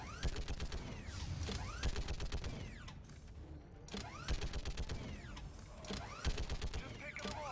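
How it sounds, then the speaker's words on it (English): Big mounted gun firing in the Mass Effect video game during a barricade defense, bursts of rapid heavy shots with mechanical clanks between volleys, repeated several times at moderate level. "Allow me to use the big gun"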